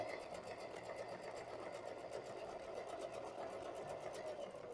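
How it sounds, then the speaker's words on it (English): A sewing machine stitching quilt fabric while chain piecing, a steady close mechanical whir with a fast rapid needle rhythm running throughout, with no talking. "get it under the machine, couple stitches in"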